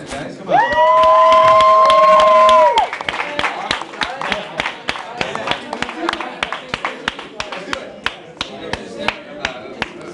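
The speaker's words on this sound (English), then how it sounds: "round of applause for Ross May and the new mic stand, guys." A crowd claps and cheers for a new mic stand at a small gathering, the applause breaking into scattered, sharp individual claps after a sustained tone fades.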